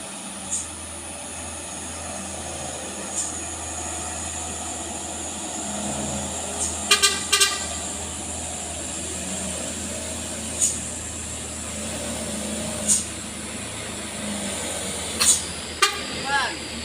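A vehicle engine drones steadily while straining up a steep hill with smoke billowing, a constant low hum under people talking, with a few short horn toots scattered throughout.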